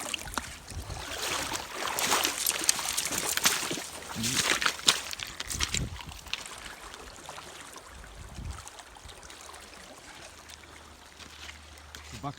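Flowing water and sloshing during a river crossing on a wild camping trip, with a continuous nearby wash of moving water, splashes and rustling.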